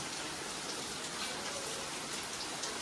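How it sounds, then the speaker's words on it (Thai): Heavy rain pours down steadily, a dense, continuous hiss of drops striking surfaces nearby with no pauses. "โอ้ฝนเนี่ยก็ตกหนักมากเลยนะครับ"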